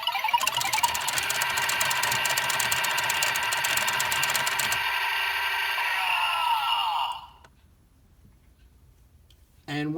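A DX Geartlinger toy from the Zenkaiger line, trigger held while the crank turns, plays a loud electronic rapid-fire clattering effect with a bright jingle for about seven seconds, then falls near silent before a short sharp burst at the end.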